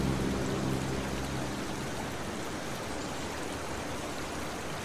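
Steady rushing water like a flowing stream, a dense continuous wash of noise with low rumble, unchanging throughout; ambient water sound from a modded GTA San Andreas game.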